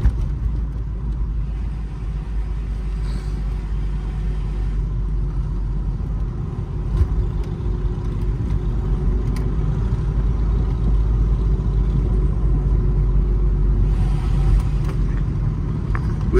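A loud steady engine rumble while riding among a convoy of Harley-Davidson motorcycles through a German city, with a constant low drone and only small swells.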